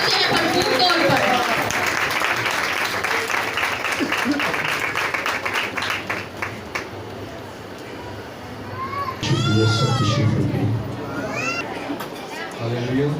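Applause and clapping from a church convention congregation welcoming a speaker, loud at first then thinning under chatter, with voices and a swell of crowd noise and shouting later on.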